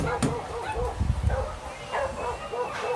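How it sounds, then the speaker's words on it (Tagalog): Several dogs bark and yip repeatedly at a moderate distance, overlapping in an irregular chorus against outdoor background noise. "Ang daming aso."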